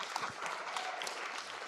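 An audience at a community meeting on democracy gives a speaker a round of applause, a quiet, distant patter of clapping hands that stays even from start to finish.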